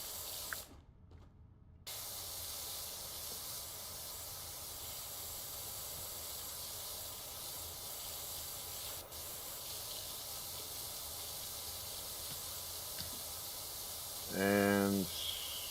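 A pressure washer spraying in PowerWash Simulator 2, a continuous broad hiss of water jet that cuts out briefly near the start, then resumes steadily, ending with a short tonal electronic chime.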